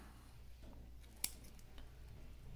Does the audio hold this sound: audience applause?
no